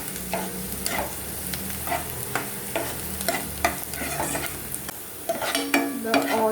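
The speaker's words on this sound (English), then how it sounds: "let the onions become golden brown. We have to saute until then." Onions sautéing in a pan for a restaurant-style veg kadai, with steady sizzling and repeated scraping stirs of a utensil against the pan, close and continuous without talk.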